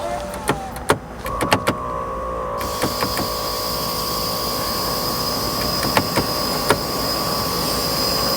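Engine of a damaged 2025 Lamborghini Urus starting up in EV mode, with an electric whine and a steady tonal hum rising after a few clicks and knocks, continuing as a sustained drone near the microphone.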